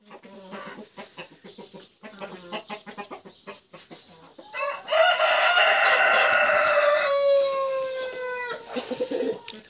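Chickens and broody hens on a farm cluck repeatedly up close, followed by a loud, sustained rooster-like crowing call that dominates the second half.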